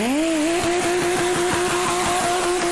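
A rear-wheel-drive car with a Toyota 1JZ or 2JZ engine revs hard while spinning its tires, a loud, close, rising engine drone held steady under bursts of tire noise.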